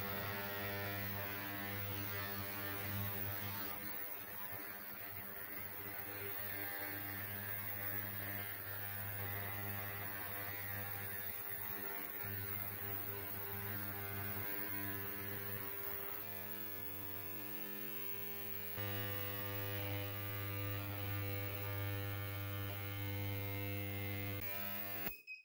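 Ultrasonic cleaner running on Honda CB750 carburettor parts, a steady electrical hum with strong low harmonics and a fizzing hiss layered above, continuous and close for the whole stretch, with a brief change in texture partway through.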